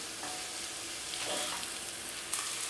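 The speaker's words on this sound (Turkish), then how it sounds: "Şöyle biraz daha kavuruyorum." Food is sautéed and stirred in a pan over a raised flame, a dense steady sizzle with intermittent scraping and clinks of a utensil; no speech.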